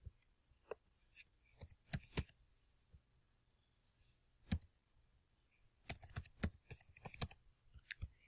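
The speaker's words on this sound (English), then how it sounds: "I'm going to delete that and type in the gray box again." Fingers type on a computer keyboard while filling in an online employment application form, with sparse close key clicks in irregular clusters, faint and without talk.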